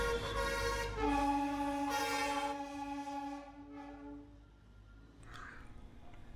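A Darjeeling diesel toy train sounds a sustained horn blast, loud and steady for about three seconds before cutting off, leaving quieter rail and ambient noise with a faint high squeal near the end.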